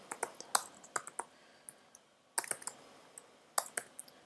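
Typing on a computer keyboard while filling in an Excel spreadsheet, with quiet, close key clicks in short irregular bursts separated by brief pauses.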